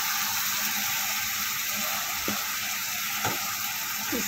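Chickpea masala paste with a little turmeric sizzles steadily as it fries in a pan, a constant hiss with a few brief stirring scrapes and no voices.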